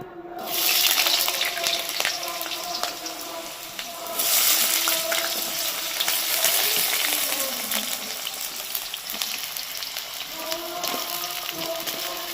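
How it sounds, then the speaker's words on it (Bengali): Diced potatoes and pointed gourd fry together in refined white oil in a wok, giving a continuous crackling sizzle that surges and settles over several seconds. "আলু আর পটলটাকে আমি একসাথে ভেজে নেব প্রথমে দিয়েছি আলু"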